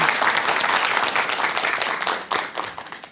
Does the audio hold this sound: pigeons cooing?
no